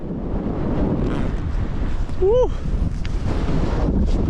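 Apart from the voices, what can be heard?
wind blowing on a mountain route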